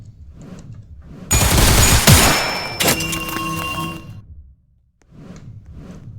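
Gunfire from the video game Limbus Company erupts in a dense, loud burst of rapid shots lasting a few seconds, followed by a metallic clank, between quieter game sounds.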